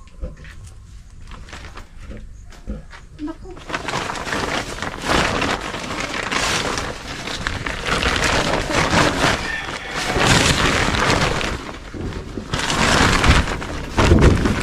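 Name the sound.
rain falling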